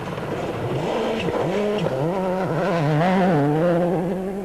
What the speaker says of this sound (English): Stage 5 is nearly 10 miles long, and Richard Burns is first through.